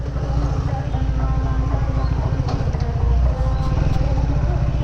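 Triumph Speed 400 motorcycle pulling in 4th gear from low speed, a steady throaty engine drone with a thumping low rhythm, heard close up from the rider's position with wind noise.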